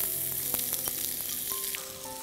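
Steady sizzling of onions frying in oil with popping whole spices, occasional sharper crackles and pops, close up and continuous with no talking.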